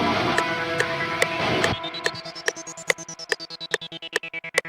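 A UAD Polymax synth plays ear-candy textures that pan left and right. A dense pad ends abruptly and gives way to a sparse pulsing sequence of plucky notes with a gliding tone sweeping up and then down.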